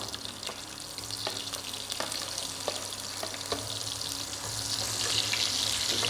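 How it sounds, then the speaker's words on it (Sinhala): Garlic and onions fry in hot oil with a steady, close sizzle and a few light stirring clicks, growing slightly louder toward the end, with no talk. "මේ දෙක හොඳට රන්වන් පාට වෙනකම් මේ තෙල් එකේ බැදගමු."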